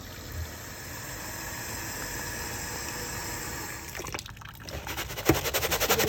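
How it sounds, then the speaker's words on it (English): Hot water streams steadily into a container of tiles with detergent, poured to loosen glue and paper backing. The pour holds an even, close rush, then turns choppier and more splashy near the end. "then cover it with hot water or warm water"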